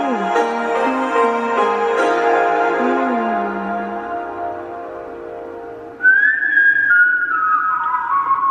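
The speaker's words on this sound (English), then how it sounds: "You can hear the whistle echoing." Sustained tonal whistling rings out over a musical backdrop, holding long notes and sliding pitch, with a reverberant, echoing tail.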